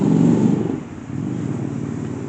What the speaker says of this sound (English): Such a powerful sound from these motorbikes. They have Harley Davidsons going up and down.